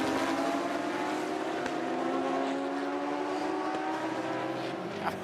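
Sports and sedan race cars roar around the Mount Panorama circuit at Bathurst, a steady, continuous engine drone with rising pitch as the cars run close together, heard alone without commentary.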